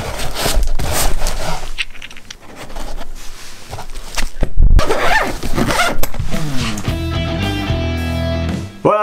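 A zipper is drawn shut on a small pouch holding a Tesla Model 3 tow hitch hook, giving several close rasping pulls and rubbing handling noises, with a brief rattle and tonal clatter near the end.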